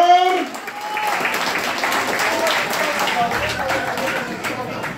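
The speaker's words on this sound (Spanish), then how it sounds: "Fuerte el aplauso, por favor." Guests at a banquet clap in a steady round of applause, moderately loud, following a spoken announcement at the very start, with faint background voices underneath.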